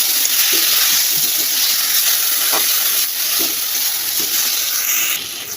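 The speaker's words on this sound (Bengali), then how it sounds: "এবার আমি ডালগুলো সব দিয়ে দেবো এগুলোকে নাড়াচাড়া করে" Dry lentils sizzle and hiss steadily as they fry in a pan with black cumin, with faint scraping stirs now and then and no talking.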